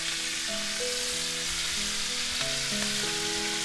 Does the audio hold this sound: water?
no